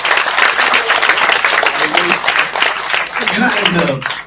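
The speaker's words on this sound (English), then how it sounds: "can we have a round of applause for Mehak, who introduced me on the stage?" An audience at a speaking session applauds loudly and continuously, with a speaker's voice talking over the clapping near the end.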